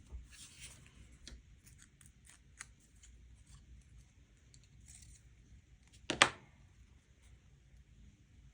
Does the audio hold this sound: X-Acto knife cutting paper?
yes